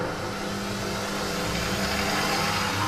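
Stand mixer with a dough hook kneading brioche dough at speed 2, a steady close motor whir with a faint rhythmic churning, continuous and even throughout.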